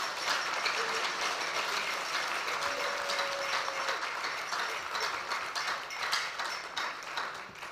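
Sustained applause from a crowd at the Ghana Premier League season launch, dense and even clapping filling the space without pause.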